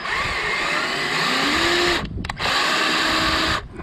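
A power drill drives a screw into fiberglass on a 2010 Jayco Expanda caravan, a close, loud steady whir with rising pitch that briefly stops and restarts, then cuts off.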